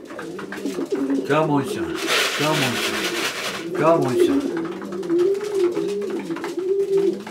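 Racing pigeons coo in their loft in repeated, rolling, close-up calls while someone talks over them in a coaxing voice.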